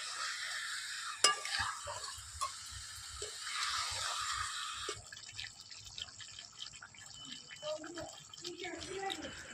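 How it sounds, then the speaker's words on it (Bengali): Spice masala for a meat curry being stirred and fried in a pan, with soft scraping stirs and a light sizzle through the first half, then quieter scattered clinks and drips. "দেখতে পাচ্ছ এখন আমি মশলাটাকে ভালোভাবে কষিয়ে নিচ্ছি"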